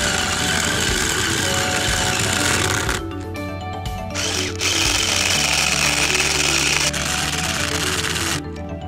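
A power drill drives M5 by 15 mm bolts into a flat-pack plastic composite beehive, with a loud, steady motor whine that dips briefly midway before resuming and then tapering near the end.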